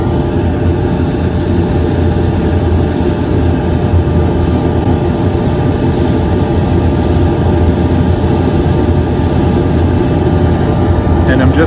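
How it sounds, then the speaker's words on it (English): A jewelry polishing motor spins a brush loaded with compound along a piece's edge, a loud, steady, unbroken motor drone with a low hum throughout. "I'm just kind of running that brush right along this edge in here"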